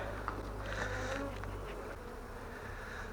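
A steady, dense buzzing of many honeybees around a hive, close and continuous, with a low hum running underneath throughout.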